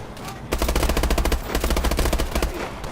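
Rapid automatic gunfire rattles in bursts in the Call of Duty Advanced Warfare campaign, loud and close, with dense repeated shots and short gaps between volleys.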